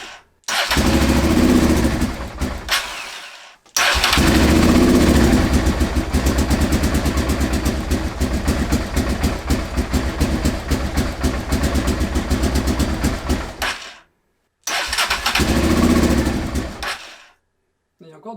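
A Honda Transalp motorcycle engine cranks and fires up after a short first burst, then runs steadily for about ten seconds, cuts, and restarts briefly, loud and close with voices talking over it.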